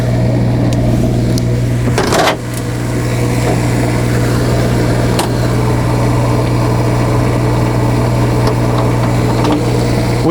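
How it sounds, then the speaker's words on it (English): An Onan 8000 diesel generator on a 2017 Newmar Ventana 4311 motorhome runs steadily with a loud, constant low engine drone and hum throughout, broken by a brief rustle or bump early on. "We have our Onan 8000 diesel generator. Now this is running right now."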